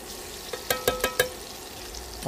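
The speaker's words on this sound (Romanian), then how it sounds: "Călim legumele." Vegetables sautéing in a frying pan, with a soft steady sizzle and a quick run of four or five light stirring clacks, close by and without talk.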